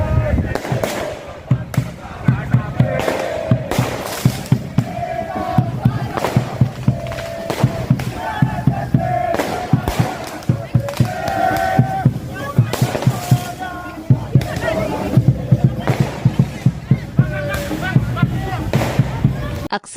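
Ultras Garuda supporters set off fireworks and firecrackers during a protest outside the PSSI office, a loud, continuous barrage of sharp bangs and cracks layered over crowd chanting and shouting.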